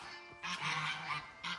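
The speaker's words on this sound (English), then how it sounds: "Literally can't hear my mother over the geese." Loud, raucous geese honking close by in repeated bursts, with brief lulls between the calls.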